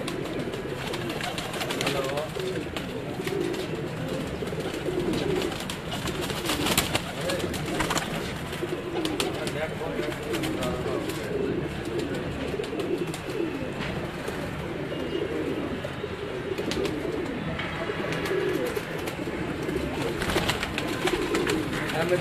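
Pigeons with colored plumage coo from a rooftop in Sialkot, their soft repeated calls mixed into a busy background of outdoor noise, with voices talking throughout.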